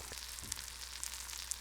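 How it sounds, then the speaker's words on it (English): Brief close-up sizzling of food frying in a pan, a steady crackling hiss with a few faint pops. "Listen to that sizzle. Sizzling."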